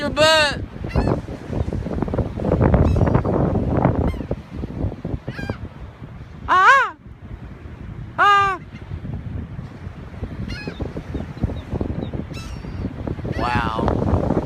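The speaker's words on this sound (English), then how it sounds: "Now you got a little crow up in it." Several crows and seagulls call loudly in a swarm of birds, with harsh caws and honking cries rising at intervals over rustling and wind noise close to the microphone.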